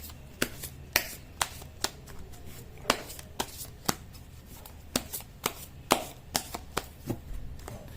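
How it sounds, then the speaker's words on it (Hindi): Tarot cards shuffled by hand, giving a series of sharp, crisp riffling snaps at a roughly even pace, close and fairly quiet against a low background hum. "कर लेती हूँ कार्ड की शफलिंग।"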